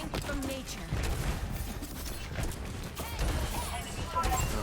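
Grenades fired in rapid succession by Junkrat in Overwatch 2: a dense, busy barrage of thumps and bursting blasts layered over constant game noise, with voices talking throughout.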